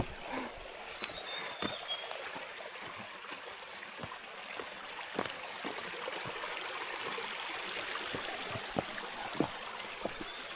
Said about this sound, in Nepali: ल है झरना पुग्यो